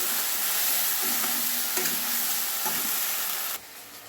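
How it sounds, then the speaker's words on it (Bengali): Spice paste frying in hot oil with cumin, bay leaf and dried chili, a loud, dense, continuous sizzle with a few faint stirring knocks, easing slightly in the final half second. "ফোড়নটা ভেজে নিচ্ছি। বাটা মশলাটা দিয়ে দিলাম।"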